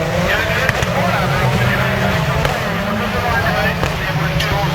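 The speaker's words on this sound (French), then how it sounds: "Il y a une voiture là" Rallycross race car driving past on a track, a loud, sustained engine roar from nearby that holds steady, with a commentator talking over it.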